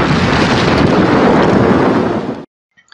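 A Gatling grenade detonates in a video game as one loud, dense, roaring blast that fills about two and a half seconds before cutting off abruptly into near silence.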